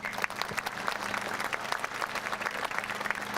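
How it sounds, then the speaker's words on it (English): Audience applause at a school pep fest, a steady dense clapping from a crowd that holds evenly for a few seconds without voices on top. "let's give them a round of applause"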